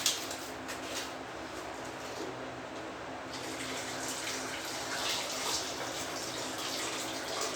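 Steady running warm water fills the space for several seconds, a continuous broadband rush like water pouring from a tap, with no talk, while deep cleaning a Kangen water device.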